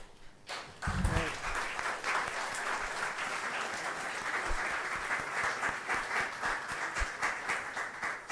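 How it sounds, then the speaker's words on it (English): Audience at a research conference breaks into sustained applause, a dense wash of many hands clapping in a hall that starts abruptly and carries on steadily, with a brief voice at the start. "Let's give a round of applause for all the speakers and for our chairs"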